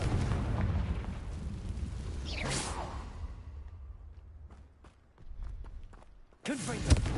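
The Confringo fire spell is cast in the video game Hogwarts Legacy: a fiery whooshing blast followed by scattered thuds and footsteps, then a second loud burst near the end, with a voice speaking over it.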